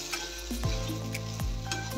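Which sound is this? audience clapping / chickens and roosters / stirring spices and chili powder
stirring spices and chili powder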